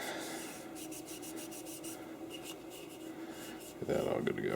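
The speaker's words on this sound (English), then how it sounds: "Okay, and I'm just going to wipe down the inside." Cloth or paper rubbing and wiping inside the dirty frame of a Heckler & Koch HK45 pistol during cleaning, a steady close scrubbing rasp with soft streaky strokes, growing louder and rougher near the end.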